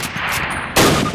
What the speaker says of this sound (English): Grab up a Springfield rifle from the table. Turn to the left, move to the fence, and fire 2 rounds at your target.